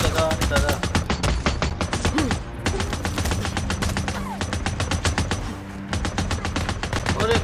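Rapid gunfire crackles nonstop in the video game Days Gone, with dense automatic bursts and single shots overlapping loudly throughout, while a player talks over the shooting.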